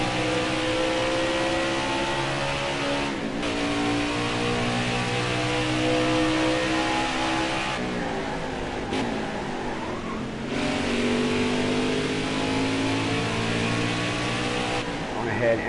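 A race car engine revs hard in a racing video game, its loud whine climbing through gears with sudden drops at shifts, while someone talks over it.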